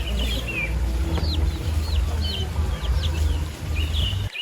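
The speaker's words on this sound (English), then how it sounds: "Chicken." A chicken clucks with a series of short, light calls heard over a constant low background rumble, moderately near.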